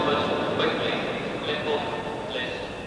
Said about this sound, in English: This train connects with boats from other countries as well